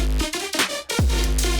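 A brief, loud burst of a song plays: a few choppy musical hits with a deep bass drop in the middle, ending suddenly.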